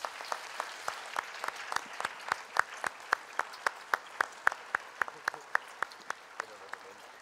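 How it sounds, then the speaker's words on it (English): Clapping from children at a junior school assembly, heard as a faint, fairly slow series of sharp, evenly spaced hand claps that thins out near the end. "Let's give them a round of applause."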